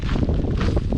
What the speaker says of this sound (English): The wind is really blowing.